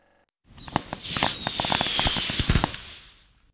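Fireworks in the Disney Learning Phonics Quest video game: a rising whistle followed by a burst of rapid crackling pops and bangs, loud and close, fading out after a few seconds.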